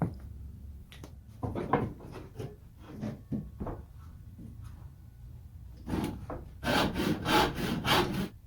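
Hand saw cutting through pallet wood for a shed workbench, a series of rasping back-and-forth strokes at an uneven rhythm, close by, ending in a faster, louder flurry of strokes.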